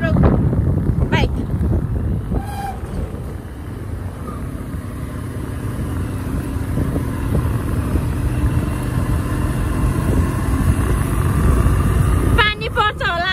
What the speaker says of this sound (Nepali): 100 को स्पिडमा छ हाम्रो बाइक